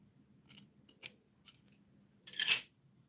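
Scissors snipping hair during a retouch: four short crisp snips spaced about half a second apart, then a louder, longer cutting sound, close up with no talk.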